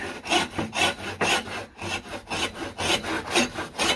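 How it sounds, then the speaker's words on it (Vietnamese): A hand saw rasps through wood in steady back-and-forth strokes, about two per second, close and fairly loud with no talking. "Ôi cưa này cũng sắc nhỉ."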